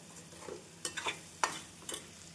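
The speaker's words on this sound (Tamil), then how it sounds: "வெல்லம் சேர்த்து ஒரு முறை மிக்ஸ் செய்து அடுப்பை ஹை ஃப்ளேமில் வைத்து நன்றாக கிளற வேண்டும்" Mango pickle with jaggery sizzles in a pan over a high flame while a spoon stirs it in about four quick scraping strokes, close and fairly quiet, with no talking.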